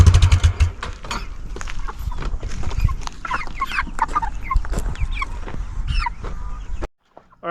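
A flock of homestead chickens clucks and chatters busily up close, a dense overlapping stream of calls with scratching and movement, ending abruptly.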